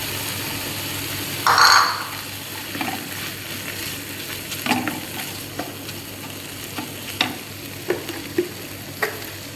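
Capsicum frying with chicken in a hot pan, a sharp sizzle burst when the peppers drop in, then steady crackling with a series of clattering stirs and scrapes, no talking.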